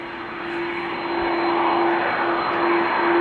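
A Delta Airbus A330 jet taxiing at Amsterdam Schiphol Airport gives a steady, loud engine roar with a sustained whine that swells slightly over a few seconds, with no voices.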